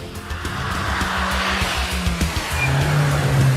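A 2014 Peugeot RCZ R with its 1.6 THP engine drives hard, with a loud, steady engine note and low tonal hum running throughout and tire noise rising near the end, without any talk.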